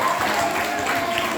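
Audience applause after a student speech contest at a school Ramadan event, a brief, steady wash of clapping with some voices mixed in.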